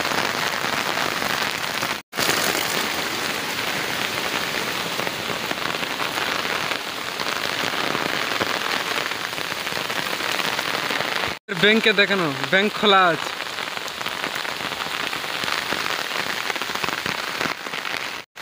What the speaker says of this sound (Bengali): দেখে নাও খুব জোরে বৃষ্টি হচ্ছে।